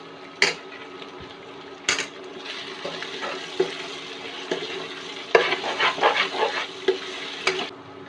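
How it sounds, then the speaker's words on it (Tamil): Tomatoes cooking down in hot oil with salt, a bubbling sizzle punctuated by sharp spoon knocks and scrapes against the pan at irregular intervals, close and clear with no speech. "தக்காளி நல்லா மசியட்டும்."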